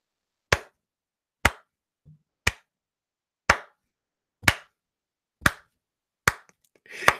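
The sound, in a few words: slow clap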